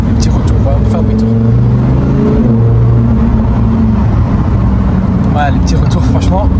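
A Lamborghini Huracán STO revs with its exhaust valves opening, a loud rumbling engine note that rises and falls throughout, with a voice talking over it from inside the car.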